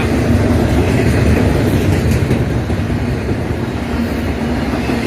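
An EMD SD70 locomotive hauls a freight train past, with a pusher unit at the rear, producing a loud, steady rumble and rolling rail noise that holds close and constant throughout.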